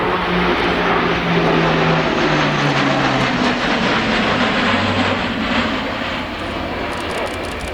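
A large military transport aircraft roars steadily overhead at the 2013 RIAT airshow, a loud, broad engine drone with shifting propeller tones that holds throughout.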